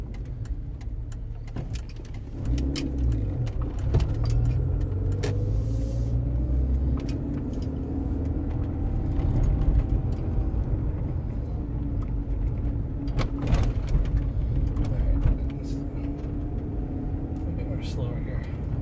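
A Land Rover Freelander with a worn drop link rolls over bumps and uneven road, cabin rumble with intermittent sharp knocks and clunks while a person talks over it.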